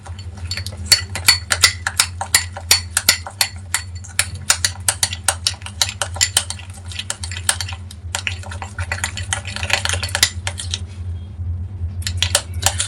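A metal spoon stirring organic shampoo base in a small bowl, rapid clinking taps against the sides in quick irregular bursts, close and clear, with brief pauses, over a steady low hum.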